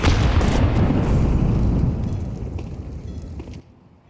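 HE grenade explosions in a Counter-Strike match, a heavy rumbling blast that rolls on for a few seconds and then dies away abruptly, loud and alone with no talk.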